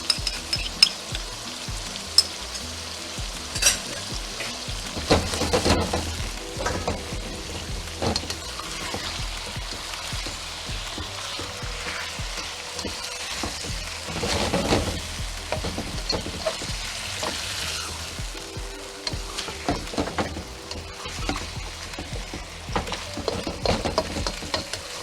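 Chicken and celery stir-fry in a pan, seasoned with salt, pepper and sesame oil, gives off a steady close sizzle and crackle, with occasional scrapes and clinks from stirring and no voices, for about twenty-five seconds.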